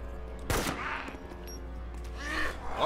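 A Lee-Enfield rifle in DayZ loaded with blanks fires one sharp, fairly close shot, followed by a faint tail and quiet outdoor ambience, with another softer burst of noise near the end.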